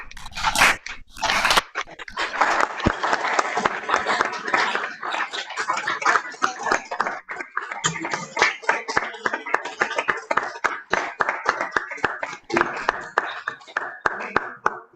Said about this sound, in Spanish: merece un buen aplauso la hermana Carmen como signo de agradecimiento por haber compartido con nosotros estas charlas